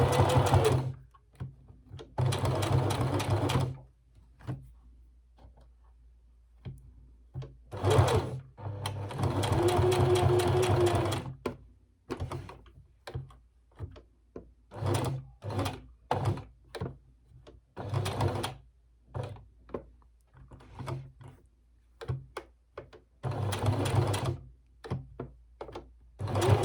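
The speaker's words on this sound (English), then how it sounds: "Now you see we've sewn all the way around." A sewing machine stitches around the collar of a small polka dot doll dress in short stop-start bursts of whirring, broken by pauses, clicks and handling thunks as the fabric is turned, close up with no talk.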